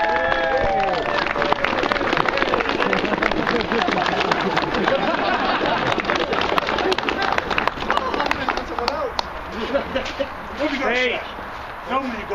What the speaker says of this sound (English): Guys, a massive round of applause for all name, Aaron!